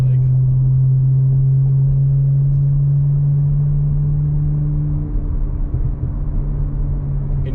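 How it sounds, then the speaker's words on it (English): A 2021 Audi S4 fitted with an AWE exhaust drones along at a steady cruise, a low, even hum with a sustained tone that shifts slightly near the end. "But it gives you a good idea of what the exhaust sounds like."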